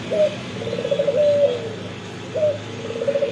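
An old zebra dove (perkutut) coos in short, clear, tonal phrases with brief pauses between them, close and alone against a faint background hiss.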